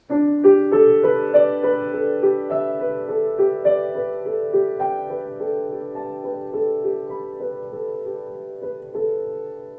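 A piano plays a gentle melody in the right hand with a steady bass line in the left, notes struck one after another in a relaxed rhythm, clear and close.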